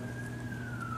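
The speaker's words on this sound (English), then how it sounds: "You guys hear the sirens?" An emergency vehicle siren wails steadily at a distance, its single drawn-out tone sliding slowly downward as it passes, over a low indoor background hum.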